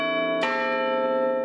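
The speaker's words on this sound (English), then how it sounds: "people set their clocks to the Town Hall bells" A large civic bell of Sydney Town Hall strikes once, loud and near, its sustained metallic tone with many steady overtones ringing on and slowly decaying beneath a constant resonant hum.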